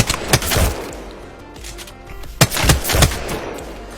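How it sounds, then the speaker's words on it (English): Longbow sniper rifle fire in Apex Legends training mode: a sharp shot early, then a quick run of three loud cracks near the end, separated by quieter game ambience and no talking. "Feel free to hit Bloodhound a bit, and then quickly acquire quickscope targets."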